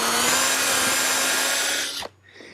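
A power drill drives a 3-inch exterior grade screw into a wooden garden gate, its loud, steady whine holding for about two seconds before cutting off abruptly, leaving faint workshop handling noise.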